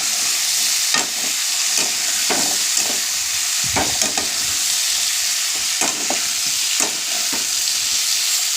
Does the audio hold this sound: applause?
no